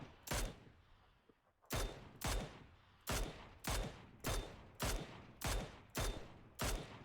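Gunfire in the game PUBG: about ten loud, sharp shots fired at a steady pace roughly every half second after a short gap, each with a brief decaying tail, with no talking.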